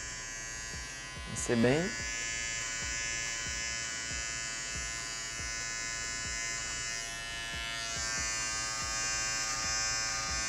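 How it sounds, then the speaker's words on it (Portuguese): An electric finishing clipper buzzes steadily while trimming a thin line into a haircut, a continuous close motor hum with a brief louder burst near the start and a shift in pitch later, with someone talking briefly over it. "Vou com minha máquina de acabamento fazendo o risquinho"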